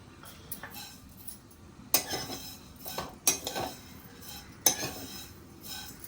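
Dry scraping and stirring of vermicelli roasting without ghee in a pan, with a few sharp metallic clinks of a utensil against the pan at intervals, close and quiet.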